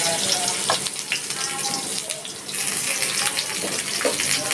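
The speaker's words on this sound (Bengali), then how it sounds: "এবার ওই তেলে আলুটা ভেজে নিচ্ছি।" Long-cut potato pieces fry in hot oil in a home kitchen, a loud, steady crackling hiss that fills the space close by with no break and only faint speech in the background.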